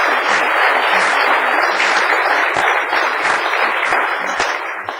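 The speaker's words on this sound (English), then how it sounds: "So let's give them a round of applause." Sustained crowd applause at a city council regular meeting, a dense steady clapping from many hands lasting the whole stretch and tapering slightly at the end.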